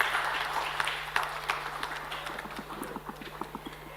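An audience at a conference session on feed, food and waste claps for a speaker, a sparse round of applause whose separate claps thin out and grow more scattered over about four seconds.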